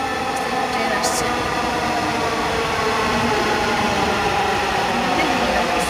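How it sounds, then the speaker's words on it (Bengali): A metro train pulls into an elevated station, its steady rumble and rail noise continuous and fairly loud for the whole stretch, with a brief high squeal near the start and a voice speaking over it. "ট্রেন আসছে"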